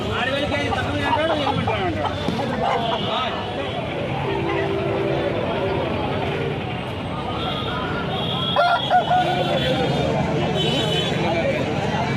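Heavy native country roosters at a Saturday poultry market in Anantapur call among other fowl, with goose-like honks over a busy crowd babble and close talking throughout.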